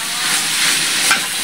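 Bitter gourd sautéing in a small pan makes a loud, continuous sizzle with a faint stirring scrape, a brief steady burst of frying noise.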